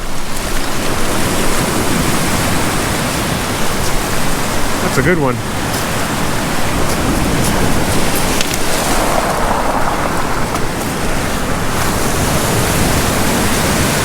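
Lake Superior waves wash onto the shore in Michigan's eastern Upper Peninsula with a loud, continuous surging hiss that swells and eases, and a voice speaks briefly over it.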